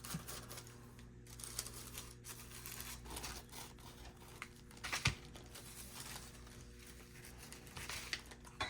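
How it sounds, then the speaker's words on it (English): A fingernail rubs around the edge of a sheet of paper to trace a cutting line during a thrift-store craft makeover: soft, close, scratchy rubbing with small crinkles and a sharper tap near the middle. "taking the paper and just rubbing my nail around it and getting a line for me to cut"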